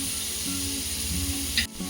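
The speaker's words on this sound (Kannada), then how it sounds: "ಇಷ್ಟು ತರಕಾರಿಗಳು ಹಾಕಿ ನೀಟಾಗಿ ಫ್ರೈ ಮಾಡ್ಕೋಬೇಕು." Vegetables fry in a pan for ghee rice, a brief steady sizzle with a light scrape of stirring near the end.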